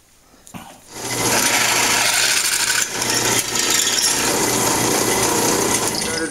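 A power drill fitted with a larger bit bores holes in pallet boards for a sliding barn door, starting after a short clack and then whirring loudly and steadily with a brief dip midway.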